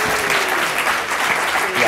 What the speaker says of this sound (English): would you all please welcome with a warm round of applause